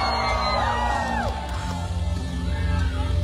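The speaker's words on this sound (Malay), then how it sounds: "Berikan tepukan yang paling gemuruh untuk Parti Warisan." A large nighttime political rally crowd for Parti Warisan in Semporna roars with loud whoops, yells and cheering, a dense continuous wall of voices with whistles rising above it.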